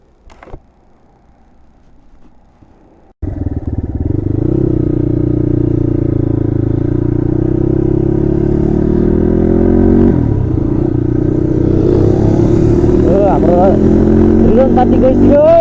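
A Yamaha FZ25 motorcycle starts up with a sudden loud engine note that holds steady and then revs as it rides off, close by, with faint speech under it.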